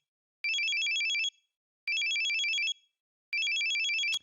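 A cell phone ringtone announcing an incoming call in the visual novel game Steins;Gate 0, three identical bursts of bright trilling electronic tones separated by short silences, clear and alone.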